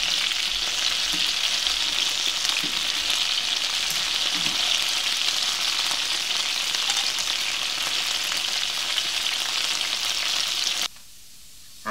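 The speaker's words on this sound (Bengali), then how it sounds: "মুরগির পিসগুলো সুন্দর মতো দুই পাশ ভাজা হয়ে গেছে" Chicken pieces fry in oil in a pan for an Eid chicken roast, giving a continuous loud crackling sizzle with small pops that runs for about eleven seconds and then cuts out, with no speech.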